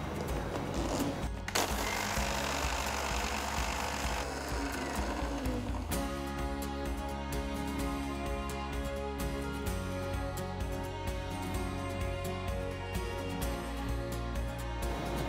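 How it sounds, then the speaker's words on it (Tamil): A mixer grinder whirs steadily, grinding cooled, roasted mustard seeds into powder in a home kitchen, a loud continuous motor drone with rattling from the jar that shifts pitch partway through, with no talk. "கம்ப்ளீட்டாக ஆறின கடுகை மிக்சர் ஜாரில் போட்டு பவுடர் அரைங்க"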